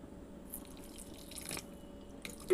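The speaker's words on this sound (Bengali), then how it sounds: "সামান্য অল্প একটু জল দিয়ে দিলাম" A small splash of water poured into an arhar dal mixture in a home kitchen, heard as faint, sparse drips and a soft trickle, with a slightly louder drop near the end.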